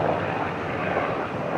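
A helicopter flies overhead near water where a boat passes, a steady, fairly loud rotor and engine rumble that fills the whole moment without voices.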